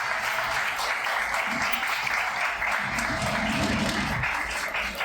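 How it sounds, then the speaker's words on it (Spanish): A church congregation applauds its servers, steady broadband clapping filling the full five seconds at even loudness, with faint voices and cheers rising underneath near the middle and end. "le demos un aplauso a todos los servidores de la iglesia"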